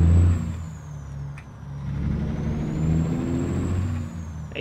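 Low rumbling idle of a truck engine in American Truck Simulator, with a brief air brake hiss at the start and steady engine drone continuing, no talk.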